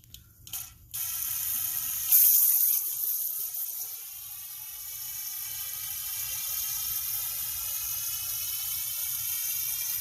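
Carb cleaner sprayed to fill a hose on a Fiero fuel-injector cleaning job: a few brief clicks and hisses, then a steady pressurized hissing spray that surges and settles, close and continuous.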